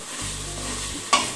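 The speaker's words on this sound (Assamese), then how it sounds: "মছলাৰ সৈতে আলুখিনি ভালকৈ ভাজি ল'ব লাগিব" Fried potatoes are stirred with masala in a pan over a medium flame while making aloo dum, giving a soft, steady scraping and frying sizzle with a brief louder clink near the end.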